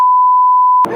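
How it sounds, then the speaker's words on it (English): A single loud, steady censor beep runs for most of a second, then cuts off into a brief burst of voice from inside a BMW M4 Competition in Sport Plus mode on a damp road. "I'm going to have to beep that bit out there."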